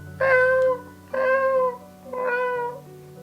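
Three drawn-out meows in a row, each clear and fairly loud, separated by short pauses, with a low steady hum underneath.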